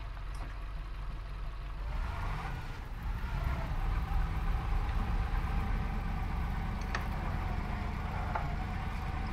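A stuck truck's engine in the off-road driving game Spintires, Chernobyl mud map, cranks and rumbles low and unsteady, building slightly after a couple of seconds, with faint game clicks over the continuous drone.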